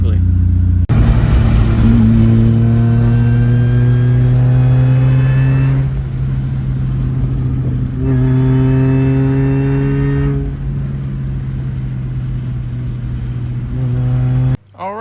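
Supercharged 2.0 Ecotec engine in a Chevrolet Cobalt on a test drive revs up close and loud in two long climbing sweeps, each rising in pitch before easing off, and cuts out abruptly at the end.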